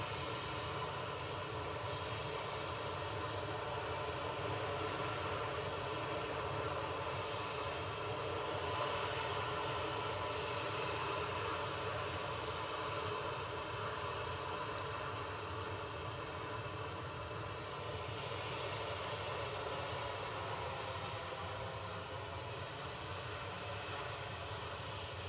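KLM Boeing 737-800 departing Manchester Airport for Amsterdam, its engines a sustained, even jet rumble and hiss lasting throughout, fairly distant and with no voices over it.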